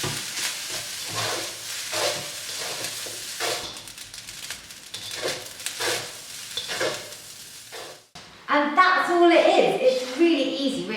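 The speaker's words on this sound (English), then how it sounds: "Now stir it all together." Nasi goreng fried rice with ketchup and mayonnaise is stirred in a sizzling pan, a steady scraping and hissing fry with talking over it, then a louder burst of sizzle and clatter toward the end.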